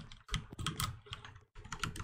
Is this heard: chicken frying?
no